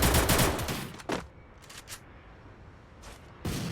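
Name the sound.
gunfire in Free Fire video game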